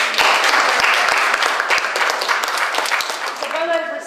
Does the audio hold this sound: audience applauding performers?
yes